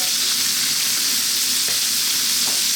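Onion, garlic and ginger hitting a pan on high heat for a pork and vegetable stir fry, giving a loud, steady sizzle with a couple of faint scrapes of stirring.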